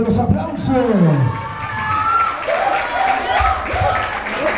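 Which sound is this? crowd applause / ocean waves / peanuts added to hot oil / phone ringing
crowd applause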